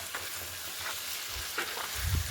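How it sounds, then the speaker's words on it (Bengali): Chicken pieces fry with onions in oil for chicken masala, a close, continuous sizzle with scraping stirs and a low clunk near the end, no voices. "মাংসটা ভাজতে দেখবেন মাংসের কালার সাদা সাদা হয়ে এসছে।"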